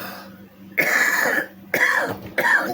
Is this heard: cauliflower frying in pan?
no